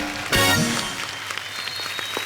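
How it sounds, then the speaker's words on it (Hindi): An audience breaks into applause, a sudden loud burst of clapping that quickly settles into scattered, fainter claps. "इस बात के लिए जोरदार तालियां बनती हैं।"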